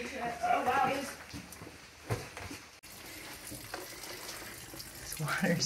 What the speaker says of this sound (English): This water's just pouring out.